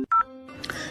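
An incoming call from mum's phone gives a brief electronic telephone tone: one sharp beep followed by a softer sustained chime, close and clear.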